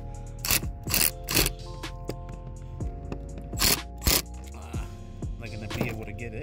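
Loosening the 10 mm positive battery terminal on a 2014 Ford Fusion with a long extension, close scraping and ratcheting clicks in short bursts under a low hum, with talking between them.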